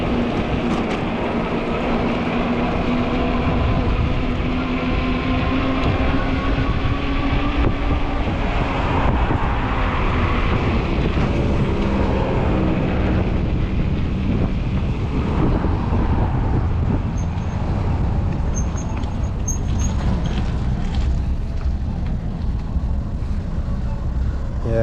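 Strong wind buffets the microphone in a steady, loud roar while riding a 20-inch folding fat-tire e-bike on a road, with no clear speech over it.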